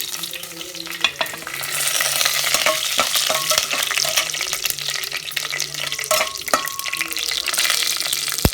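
Mustard seeds and pepper sizzle and crackle steadily in hot oil, loud and close, with scattered pops and the scrape of stirring throughout.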